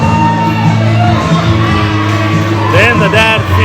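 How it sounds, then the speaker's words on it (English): A St. Louis wrestling crowd cheers and shouts loudly and steadily, with whoops and yells rising near the end while an announcer talks over the noise. "this St. Louis crowd are rallying behind one of their absolute favorites"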